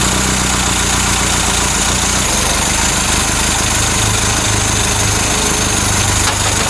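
A Ford Capri MKI engine runs steadily at a loud, even idle, with a constant broadband drone and low rumble and no talk over it.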